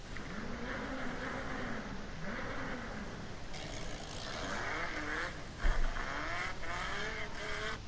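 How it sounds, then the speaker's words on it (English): A Dodge Viper's V10 engine roars and revs continuously, with rising and falling pitch sweeps as it accelerates and shifts, loud and close throughout with a brief sharper burst near the end. "for the American V10, there's really only one car that can perfectly represent it, the Dodge Viper."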